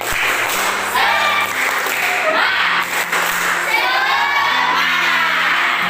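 Schoolchildren in a classroom perform a patterned spirit clap while chanting and shouting together. The loud clapping stays mixed with their lively voices from start to finish.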